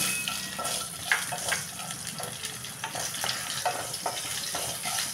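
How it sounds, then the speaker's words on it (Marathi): Whole spices such as cloves and cardamom sizzle in hot oil as they are sautéed in a pan for tondli rice, with a steady crackle and a few stirring scrapes, close and alone. "आता हा सगळा खडा मसाला घातला. आपण जरा परतून घेऊया."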